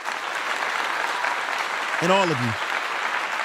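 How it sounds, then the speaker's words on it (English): A crowd claps steadily for a supporter being honored, a dense sustained patter heard under a voice. A short spoken phrase rises briefly over the clapping. "And I want to give him a clap."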